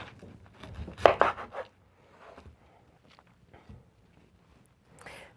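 A knife cuts the top off a pineapple, giving one short crunchy cut near the start, followed by quieter handling sounds and near silence.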